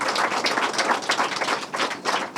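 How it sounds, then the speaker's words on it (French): An audience at an award ceremony applauds a prize-winning school: a dense, continuous burst of many hands clapping, fairly close and even, with no voices on top. "On peut les applaudir."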